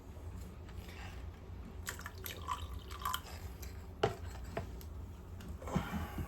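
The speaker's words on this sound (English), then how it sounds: "Oh, you can see it actually is bubbling." Potassium permanganate mixed with sulfuric acid bubbling in a small lab vessel, giving scattered faint pops and drip-like ticks over a low steady hiss, quiet and close, with no talking.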